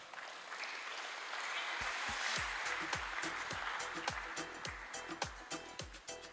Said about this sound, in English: Can we get another round of applause for Tolo?